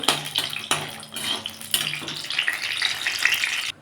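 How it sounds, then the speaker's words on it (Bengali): Dried red chillies frying in hot ghee for vegetable khichuri, a bright close sizzle with bursts of spattering and a few metallic pan clinks, fairly loud and uneven. "দেখুন বন্ধুরা আমার লঙ্কাটা ঘিয়ের মধ্যে ভাজা হয়ে গেছে"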